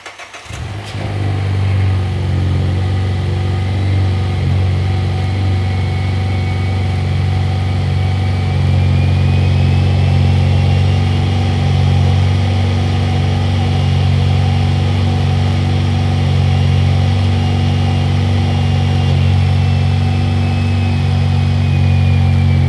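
A 3rd-generation car with a newly installed turbo kit starts for the first time and settles into a steady, loud, low idle that holds evenly with a faint whine above it, no voices.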